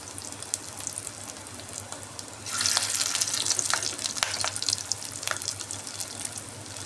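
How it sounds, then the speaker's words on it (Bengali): Fish roe pakoras made from rohu roe sizzle in hot oil, a steady crackling hiss that swells louder midway with sharp spitting pops scattered over it. "একটু লাল লাল করে ভাজতে হবে কড়া করে"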